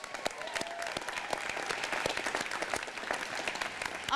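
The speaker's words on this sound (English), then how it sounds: "Let's give them a round of applause." Graduating class of 2012 applauded at a university commencement ceremony, heard as a fairly faint, distant crowd with scattered sharper individual claps spread through the hall.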